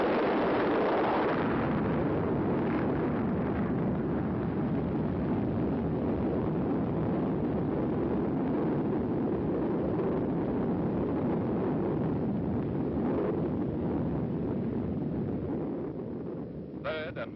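The Operation Sandstone Zebra nuclear test blast, a U.S. atomic explosion: a sustained, dense roar of rumbling noise filling the whole stretch, steady and heavy before tapering off slightly at the end.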